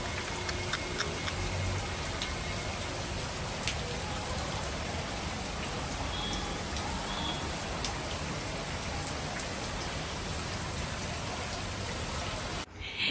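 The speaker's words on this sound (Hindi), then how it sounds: "बारिश आ चुकी हो रही है दिन भर सुबह से" Steady, dense rainfall hisses and patters continuously on surfaces, loud and close, with no talking, cutting off abruptly near the end.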